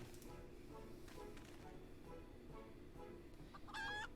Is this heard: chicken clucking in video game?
yes